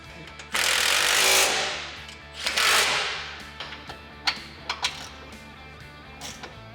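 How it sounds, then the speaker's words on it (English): An impact wrench runs up the winch mounting hardware on a Honda Pioneer 1000, with two sustained loud buzzing bursts followed by several short sharp rattling hits, close and without talk. "We're gonna use an impact to run all the hardware up, and then we'll go back through with the ratchet and fully tighten it."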